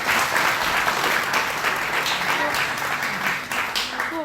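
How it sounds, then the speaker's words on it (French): Theatre audience at the end of a play applauds the actors with loud, sustained clapping from a full house, steady throughout with a voice faintly audible beneath. "un tonnerre d'applaudissements pour Guillaume"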